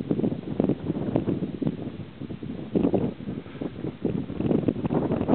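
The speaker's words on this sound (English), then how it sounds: "lots of wind" Strong wind on a dry desert back road in October buffets and rumbles in uneven gusts, a continuous low roar rising and falling with no voices.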